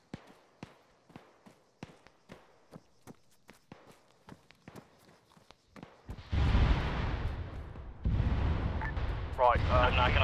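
Rocket strikes in the military shooter Arma 3 erupt as loud, heavy rumbling blasts in the second half, following a run of regular footsteps and sharp impacts, with voices talking at times.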